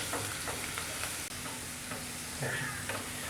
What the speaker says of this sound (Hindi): फ्लेम को हाई करके प्याज को हमें गोल्डन कर लेना है